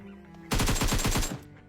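A short automatic burst of gunfire from the video game PUBG, roughly eight rapid evenly spaced shots in under a second, loud and close, with quiet background before and after.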